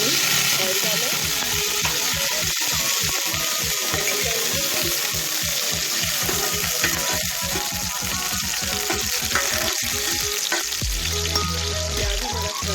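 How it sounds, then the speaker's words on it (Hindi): Onions sizzle and fry in oil in a pot as the base for an egg mutton pulao, making a steady, dense crackle with some stirring scrapes throughout and a brief clatter near the end. "प्याज हमारा फ्राई करेंगे प्याज को"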